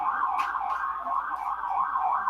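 An emergency vehicle siren wails steadily at a moderate distance, its tone rising and falling continuously across the whole stretch with no other sounds on top.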